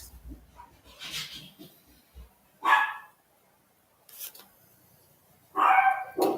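Several sharp dog barks come in separate bursts, each short and fairly loud, with quiet gaps and some softer yips between them.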